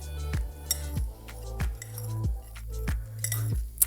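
Flour, baking soda, baking powder and salt are stirred together in a bowl, a utensil clinking against the sides in a quick repeating rhythm of sharp taps and scrapes, close and steady with no talk.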